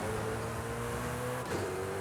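A Koenigsegg Jesko is driven at full throttle in Forza Horizon 5, giving a sustained, rising engine drone with a brief gear-change dip midway, steady and fairly quiet.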